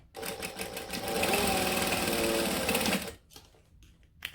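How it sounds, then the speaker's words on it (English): A sewing machine chain stitches a series of small fabric tabs for a bag, running loud and fast in a steady whirring hum for about three seconds before stopping. "I'm going to take one of these so I can chain stitch it"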